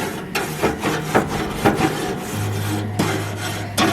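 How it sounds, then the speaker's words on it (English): A wire brush scrapes back and forth across a hot grill grate heated to about 400 degrees, giving rhythmic raspy strokes roughly every half second, loud and close, with a steady low hum entering partway through. "This is when I like to scrub it, because it's nice and hot and everything comes off really well"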